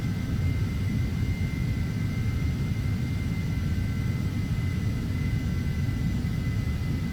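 An Embraer jet takes off in the FSX flight simulator game, a steady loud engine roar with a deep rumble and a faint high whine held throughout, no voices.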